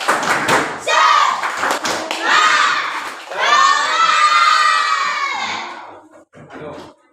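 A classroom of schoolchildren shouts together in a spirit chant, loud and close, with bursts of voices and a few sharp claps between the shouted phrases.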